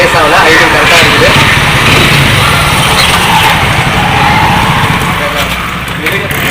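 A vehicle engine runs at a steady idle without revving, loud and close, with the hum holding constant before easing slightly near the end; a voice talks faintly underneath.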